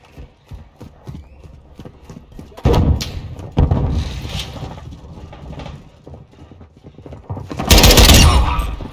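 Gunfire and explosions in Call of Duty: Modern Warfare 2 team deathmatch, a rapid string of hard clattering shots followed by heavy thudding blasts, loud and close with no talk.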